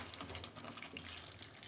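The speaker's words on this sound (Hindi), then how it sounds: "अब इसमें हम पानी ऐड करेंगे।" Water is poured steadily into a pot of spicy Bihar-style chicken curry, a soft continuous splashing trickle that stays faint throughout with no talk.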